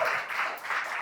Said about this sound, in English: A round of applause for our host, Yoshi.